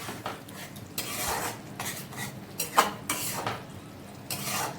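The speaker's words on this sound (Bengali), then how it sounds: "আবারও ভালো করে একটু মিশিয়ে নেবো এগুলোকে।" A spoon scrapes and stirs mushroom masala, a Bengali-style gravy with kasuri methi, in a pan on the stove, giving steady close scraping strokes and a few light clinks, with no one speaking.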